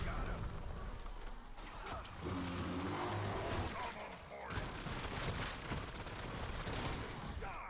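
Rapid gunfire in the Black Ops 7 Zombies video game, a dense stream of shots blended with game effects and music, with a person talking over it throughout.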